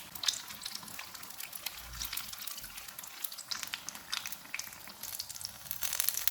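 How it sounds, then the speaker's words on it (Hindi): Chili pakoras deep frying in hot oil, a steady bright crackling sizzle with small bursts and pops throughout, close and continuous with no talking. "इसी तरह से बाकी भी फ्राई कर लेंगे।"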